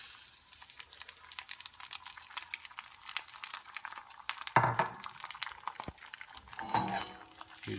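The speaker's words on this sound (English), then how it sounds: "add a little more butter and in go the eggs" Eggs hit a buttered pan on a new range with a soft, quiet sizzle that swells midway, mixed with light clinks of a utensil against the pan.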